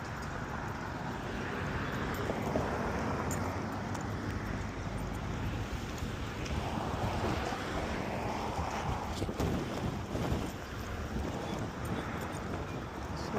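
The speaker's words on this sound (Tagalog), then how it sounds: "It's windy." Strong wind gusts across a city park on a dark day under a yellow weather warning, a dense, steady rushing roar buffeting the microphone for the whole stretch with no clear talk.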